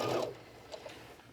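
A sewing machine top-stitches a mesh fish-shaped beach bag in one short, fairly soft burst of rapid needle action at the start, then fades into faint ticking and near-quiet.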